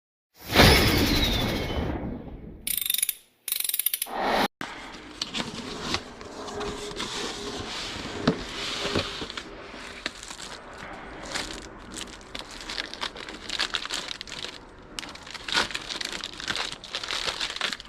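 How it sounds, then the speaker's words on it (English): Packaging for an Onwote 4K security camera system is opened and handled, with loud crinkling plastic and cardboard followed by a long stretch of scattered rustling, tearing and shuffling up close. "let's go ahead and start unboxing"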